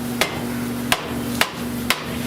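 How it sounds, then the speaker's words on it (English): Four sharp, evenly spaced hammer blows knock a steering wheel off the steering column of a 1970 Buick Wildcat, loud metallic strikes about half a second apart over a steady background hum. "I just hammered it off here real quick"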